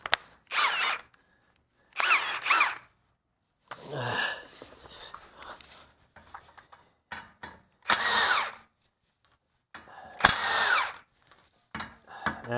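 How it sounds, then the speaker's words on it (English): A power tool whirs in about six short, loud bursts separated by silent gaps while undoing the 17 mm lower ball joint nuts on a 2002-08 Toyota Camry. "We're going to undo the lower ball joints with these 3 nuts right here"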